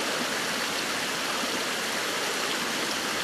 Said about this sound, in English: You'll see that it's a really nice fresh stream.